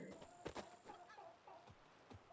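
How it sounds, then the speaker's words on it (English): A rooster in the Witcher 3 video game, in the Toussaint region, gives a few short clucks and crowing calls over a steady game background hum. "Here comes the rooster"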